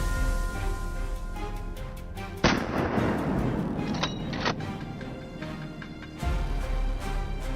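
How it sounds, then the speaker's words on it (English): Rifle gunshots from hunters ambushing wild boars in a swamp: several sharp, loud cracks at uneven intervals, ringing over a steady tonal background. "Shots rang out, each one timed with deadly precision"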